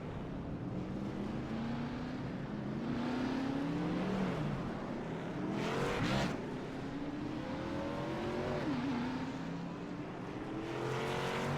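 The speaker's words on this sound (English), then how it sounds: "All the drivers rolling off the front straightaway to get stacked up and ready to go." Race cars roll off the front straightaway at Charlotte during a motorsports playoff event, a steady mingled engine drone from several cars with rising whines and a louder pass swelling near the middle, no voices.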